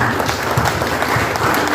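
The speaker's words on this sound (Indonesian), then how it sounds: "kita beri aplaus yang meriah untuk ibu-ibu semua" Church congregation giving warm applause to the mothers during a parish feast-day service in Lubuk Pakam, a dense, steady patter of many hands clapping throughout, close and full.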